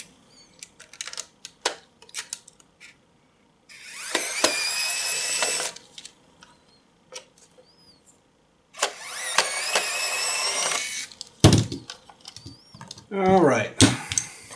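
Four screws backed out of the rear case of a Thsinde 18 Z-III multimeter, heard as scattered small clicks and taps, two longer whirring bursts like a small powered screwdriver, and a final rattle as the last screw comes free.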